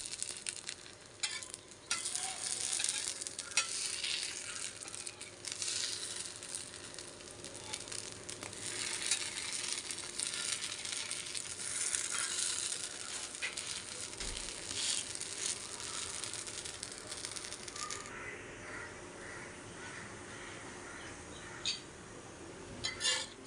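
Mini podi dosa sizzling on a hot pan after being flipped, a steady soft crackle of frying oil running continuously with small pops, close and fairly faint, no talking.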